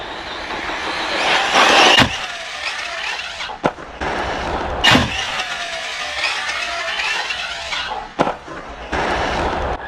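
An Arrma Typhon V4 RC car whines at high pitch as it races toward a ramp, with sharp cracking impacts as it launches and lands, several bursts of motor noise between them.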